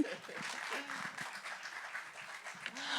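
Audience applause at a French open-air summer festival show, steady moderate clapping that runs the whole time, with faint voices mixed in underneath.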